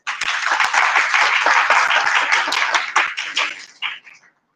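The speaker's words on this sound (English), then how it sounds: "A warm round of applause for our honorable guest." An audience applauds at an architecture anniversary inauguration ceremony, with close, crisp clapping from a modest group. It holds steady for about four seconds, then tapers off quickly to silence.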